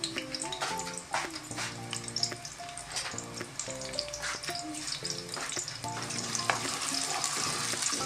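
Onions frying lightly in a pan for a chicken and turnip curry, a steady sizzle with stirring clatter running throughout, with background music over it.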